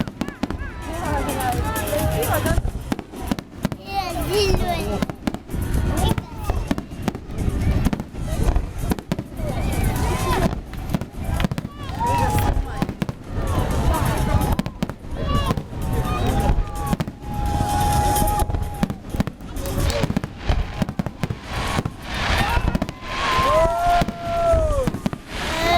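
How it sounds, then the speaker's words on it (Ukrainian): Fireworks salute display over Sevastopol, with dense, continuous booms and crackling bursts filling the whole stretch, loud and close, while a crowd chatters underneath and whistling rockets rise now and then. "салют, это красиво."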